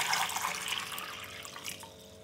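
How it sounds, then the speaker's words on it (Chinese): Clean water pouring into a bowl of pears being prepared for steaming, a steady close splashing and trickling that fades slightly toward the end, with no voices. "倒入清水"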